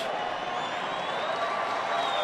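A baseball stadium crowd rumbles in a continuous, building roar during a night game, with a faint tonal whine running over the steady wash of noise.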